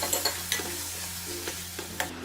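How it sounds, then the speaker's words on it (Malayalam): A spoon stirring crushed tomato into masala frying in a pan, with a steady low sizzle underneath and a few soft scraping taps spaced through it, close and moderately quiet, no voices. "ഇനി ഇതിലേക്ക് ടൊമാറ്റോ ക്രഷ് ചെയ്തതും ചേർത്ത് നല്ലതുപോലെ മിക്സ് ചെയ്ത് കൊടുക്കും"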